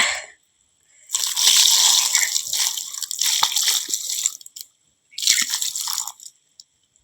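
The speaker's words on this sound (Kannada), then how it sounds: "ನೀರು ಹಾಕ್ಕೊಂಡು ಕಾಲು ತೊಳ್ಕೊಳ್ಳೋದು ಅಷ್ಟೇ ಈಗ" Water poured from a container over feet during washing, splashing and pattering in two long bursts separated by brief pauses, close and fairly loud with no talk.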